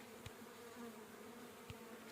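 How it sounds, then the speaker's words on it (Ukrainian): Honeybees buzz around hives in a faint, steady drone, with two soft knocks breaking the continuous hum and no talking. "Бджолка бджілка, ці бджоли кругом тут."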